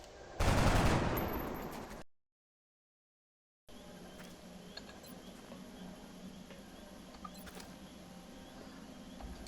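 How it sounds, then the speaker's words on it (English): XCOM suppressing gunfire opens with a loud burst of rapid shots lasting about a second and a half, then cuts to silence before a faint, steady game ambience with occasional small clicks returns. "Suppressing fire."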